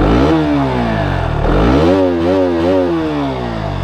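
A KTM RC200 motorcycle with a modified loud exhaust revs hard and close, its pitch rising and dipping through several quick throttle blips over a steady rumble.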